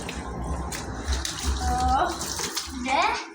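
Water sprays in a steady rush while a motorbike is washed outdoors, continuous and fairly close, with a child and an adult talking over it.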